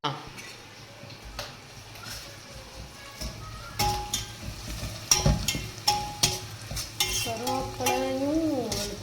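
Curry leaves and green chillies sauté in hot oil in a pan, a steady sizzle under repeated scraping stirs and clinks of a spoon against the pan, while someone talks over the cooking.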